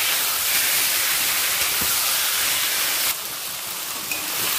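Drained taro leaves dropped into hot oil with tempering spices, a loud, steady broadband sizzle and hiss close up, easing slightly partway through as the leaves settle.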